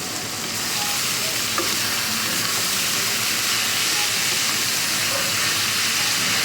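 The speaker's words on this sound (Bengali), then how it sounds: "টমেটোটা একটু নরম নরম হয়ে এলে এর মধ্যে গ্রেট করা লাউটা আমি দিয়ে দেব। এবার সব কিছু আমি একটু মিশিয়ে নেব।" Grated bottle gourd and tomato stirred in a frying pan give a constant, close, hissing sizzle that carries on steadily, with no voices.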